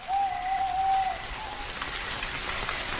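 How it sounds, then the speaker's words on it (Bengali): Heavy rain in a Bengali horror cartoon pours as a steady, dense hiss for the whole stretch, with a brief whistling tone near the start and no voices. "বৃষ্টির গতি হঠাৎই বেড়ে গেল।"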